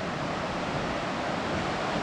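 Mother Walker Falls, a waterfall in a gorge in Grafton Notch State Park, roars as a steady, dense rush of falling water, constant and broadband throughout with no voices.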